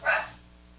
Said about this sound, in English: please forgive my dog.